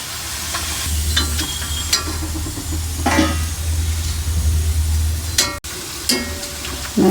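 Disco murukulu frying in hot oil give a loud, continuous crackling sizzle with bursts of bubbling, a low steady hum beneath and a sudden brief gap near the end.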